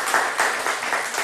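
A short burst of clapping, moderately loud, with a few distinct claps standing out in the brief span.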